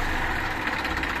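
Second-hand Massey Ferguson 1035 DI tractor engine running steadily up close, a low, continuous diesel rumble with a slight rough pulse and no talk.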